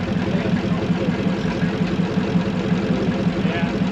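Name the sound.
big truck with flathead engine idling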